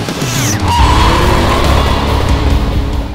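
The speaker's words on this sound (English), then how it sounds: "let's get into the throttle a little bit and see how she pulls" Tuned Shelby GT500 making over 510 rear-wheel horsepower pulls hard under throttle, a loud close engine roar rising in pitch for about three seconds with some tire noise.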